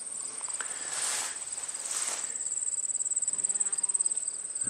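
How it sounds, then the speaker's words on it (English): Honeybees buzzing near flowering alfalfa beside a cornfield in Minnesota, with a steady high insect drone throughout and a few louder swells as bees pass close. "Honeybee."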